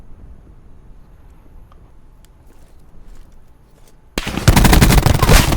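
Automatic gunfire in the Call of Duty Black Ops 4 Blackout battle royale mode, a loud rapid burst that breaks in suddenly after about four seconds of quiet, faint background sounds.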